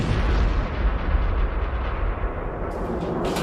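Explosions of ammonium perchlorate solid propellant mixed with aluminum fuel and binder, heard as a continuous loud, rumbling roar of blasts with dense low-end thunder throughout.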